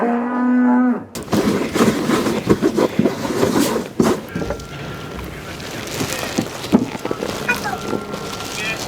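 Hanwoo cattle on a Korean cattle farm: one low moo at the start, then bustling barn noise with clatter and people talking, and more faint animal calls in the background.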